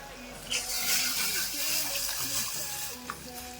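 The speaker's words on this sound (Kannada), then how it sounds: "ಇವಾಗ ಚೆನ್ನಾಗಿ ಕುದೀತಾ ಇದೆ." A pot of sambar bubbles and simmers on the stove, giving a soft, steady hiss with light stirring sounds, while a faint voice murmurs in the background.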